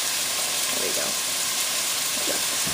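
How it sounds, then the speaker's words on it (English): Vegetables and potatoes sautéing in oil in a pan, giving a steady close sizzle and hiss throughout, with faint stirring and soft speech-like sounds underneath. "I'll saute these up first a little bit, maybe the potatoes a little brown"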